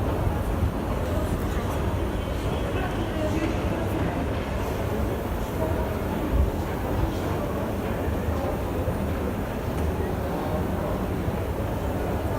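Metro train rumbling through an underground subway station, a steady loud low roar of wheels and car noise filling the whole stretch, with voices faintly mixed in.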